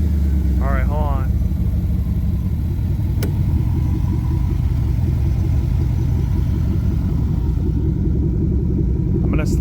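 Repaired engine of a flood-damaged ZR1 Corvette running with a loud, steady rumble throughout, a short voice heard early over it.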